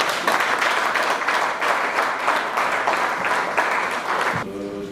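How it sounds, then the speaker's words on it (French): An audience at the launch of a women's fair applauds, a strong, steady wash of clapping that stops abruptly near the end. "des applaudissements."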